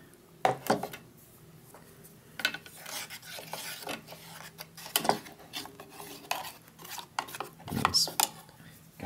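A South African military ration is stirred with water in its pouch, giving scraping, rasping strokes in uneven bursts, close and fairly loud, alone without talk.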